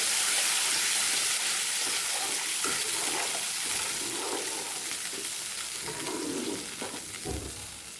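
Buttermilk poured into a pan of sizzling garlic chutney tempering for Kathiyawadi vagharelo rotlo gives a loud, steady hiss and bubbling fry, fading slightly over time with some stirring clatter near the end.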